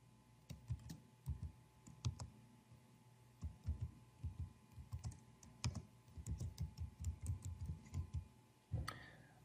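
Someone types on a computer keyboard, entering a page name in business software; steady bursts of quiet, close key clicks with short pauses, no talking.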